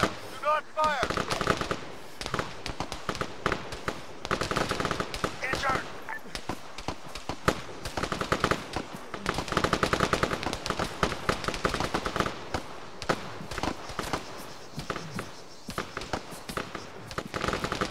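Dense bursts of machine gun fire from an Arma 3 forest battle crackle almost nonstop, loud and close, with shouted voices mixed in.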